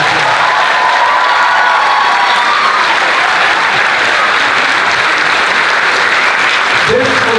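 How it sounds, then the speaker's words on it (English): An audience at a youth music academy's visitor day session applauds the performers loudly and continuously, with some cheering mixed into the dense clapping throughout. "Another round of applause for everybody that performed."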